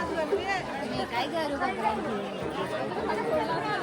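Dense crowd chatter at Jejuri temple, a steady babble of many overlapping voices close by, with no single speaker standing out for long.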